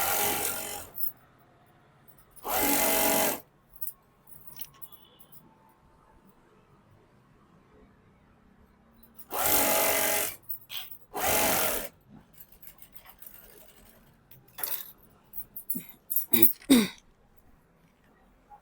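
Sewing machine stitching lining onto the main fabric of an Anarkali dress, running in several loud bursts of a few seconds each, separated by quiet stretches with small handling clicks and rustles.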